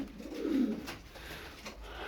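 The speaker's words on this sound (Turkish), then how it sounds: "elimde böyle dört tane adalı var" An Adalı pigeon gives a soft, low coo, close by and fairly quiet, followed by faint background stillness.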